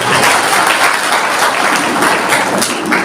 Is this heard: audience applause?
yes